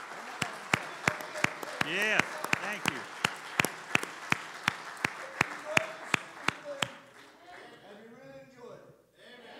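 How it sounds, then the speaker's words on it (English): A church congregation gives a homecoming gospel group a slow, regular hand clap, sharp evenly spaced claps ringing out with voices calling between them, then someone speaks briefly as the clapping stops. "Let's give them a hand clap"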